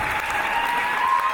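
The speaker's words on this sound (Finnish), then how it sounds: "Yleisö kannustaa Reimiä jälleen." A wrestling crowd in Helsinki cheers and applauds in a steady, loud, continuous roar.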